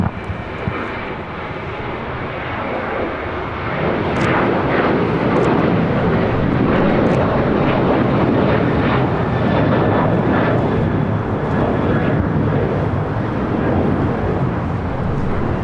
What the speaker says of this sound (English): This is American Airlines Flight 613 taking off to Chicago O'Hare on the 737-800 in the One World livery